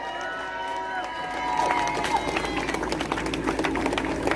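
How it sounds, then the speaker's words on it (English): Crowd at a Candlelight Movement petition signing breaks into applause and cheering, building from murmuring into a dense clapping roar that stays loud to the end. "I want you to give him a resounding round of applause."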